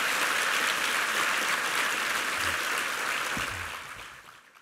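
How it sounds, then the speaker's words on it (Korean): A church congregation applauds the new choir and music team with dense, sustained clapping that fills the room evenly before fading away at the end. "격려의 박수 부탁합니다"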